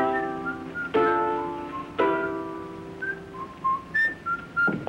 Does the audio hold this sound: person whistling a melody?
yes